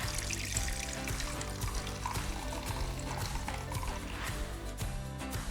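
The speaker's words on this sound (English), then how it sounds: "Grab a bowl and pour the butter into the bowl." Melted butter, browned in a pan for chocolate chip cookies, is poured into a bowl, giving a continuous liquid trickle and splatter that runs steadily throughout without any talking.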